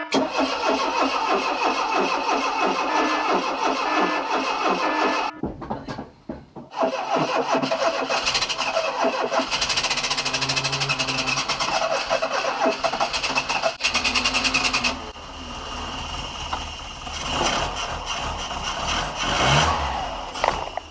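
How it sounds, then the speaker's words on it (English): A Ford Escort Mk3 engine cranks, stumbles briefly, then catches and runs at a loud, close, rough idle with some revving. There is no talk over it. "Alright, let's see if she'll start with Maud's battery."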